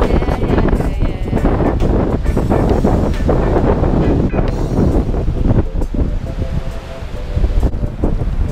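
Ocean surf breaking on the beach at Leo Carrillo in Malibu, California, a loud continuous wash of crashing waves heavily buffeted by wind noise on the microphone.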